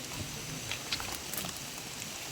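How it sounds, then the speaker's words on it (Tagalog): Heavy typhoon rain pours on a mountainside, a dense, steady hiss of drops drumming close and loud without a break. "malakas pa lalo ang ulan"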